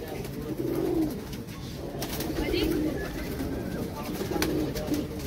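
Teddy and Double pigeons coo in soft repeated phrases over a steady background murmur, with people talking nearby.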